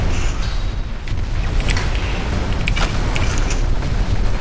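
Explosion in the mech combat game MechAssault during multiplayer, a dense rumbling blast with crackling debris and continuous heavy low-end roar throughout.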